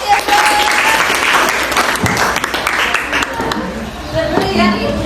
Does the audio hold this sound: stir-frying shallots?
no